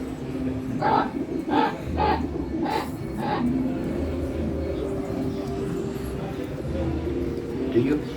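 Pigeons or doves cooing in an aviary beside living quarters, a few soft repeated coos near the start over a steady low hum, with a voice speaking underneath.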